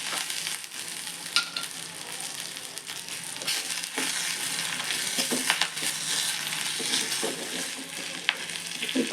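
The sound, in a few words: spices roasting in a pan: cumin, pepper, asafoetida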